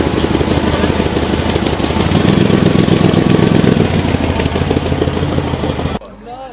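A Dodge Viper ACR with a big supercharger runs nearby, a loud, steady engine rumble holding for about six seconds before cutting down to a quieter idle.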